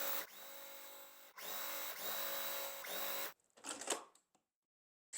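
A sewing machine stitching a winter quilt block, two steady loud runs of rapid motor-driven stitching with a brief pause between, then short bursts and handling clicks before falling silent, close with no talk.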